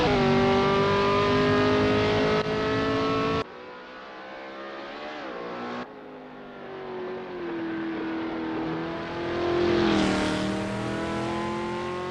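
Several 1969 Formula 5000 race car engines roar loudly in Assetto Corsa at the Oesterreichring, with sustained high revs that drop briefly during gear changes and then climb again, and no talk over them.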